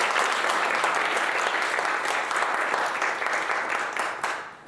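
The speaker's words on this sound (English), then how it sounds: "Can we just give them a round of applause for this?" An audience at an autism round table gives dense, sustained applause, a steady wash of many hands clapping that tapers off toward the end.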